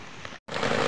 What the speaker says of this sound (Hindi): तगड़ी वाली बारिश और इसके साथ ही तूफान